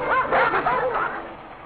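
Dogs bark in a short burst of yappy, excited barks with yips, close and fairly loud, then fading into a brief whimpering tail.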